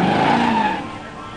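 A 1967 GTO Ram Air 400 automatic launching against a 1987 Mustang 302 automatic in a pure stock drag race, a brief loud burst of engine roar and tire skid that quickly fades.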